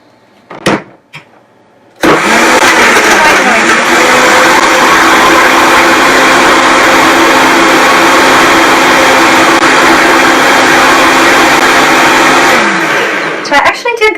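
A kitchen blender running at full power through a green smoothie of leafy greens, a loud steady motor whir that starts abruptly after a couple of brief bumps and runs on before winding down.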